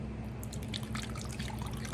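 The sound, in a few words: pouring rice vinegar into a measuring spoon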